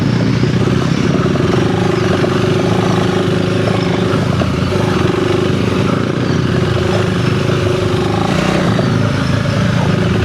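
An off-road motorcycle, a Honda CRF300L or KTM 390 Enduro R, runs on a trail in a lower throttle mode, with a loud, continuous engine drone and some mechanical clatter throughout.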